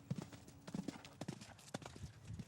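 Horses walk on a ranch hit by drought, their hooves clip-clopping in an uneven close rhythm, several sharp knocks spread over a couple of seconds.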